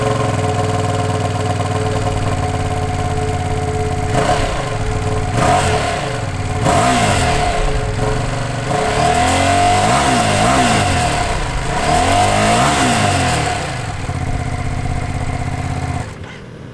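A 2025 Ducati Panigale V2S sports motorcycle engine revs and accelerates repeatedly, rising in pitch through several gear changes, loud and close, with a steady engine drone underneath.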